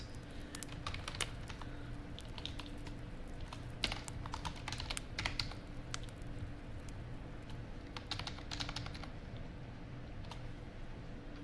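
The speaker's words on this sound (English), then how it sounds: "you also get to hear some typing ASMR, I guess" Fingers type on a computer keyboard in a soft ASMR recording, with quick uneven bursts of clicks and brief pauses, close and steady for the whole stretch.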